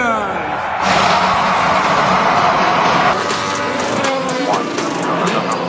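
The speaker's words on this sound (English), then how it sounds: "Drivers, start your engines!" Indianapolis 500 race car engines fire up and rev at the start, a loud sustained mechanical roar with rising and falling pitch sweeps from several cars, under crowd and announcer noise.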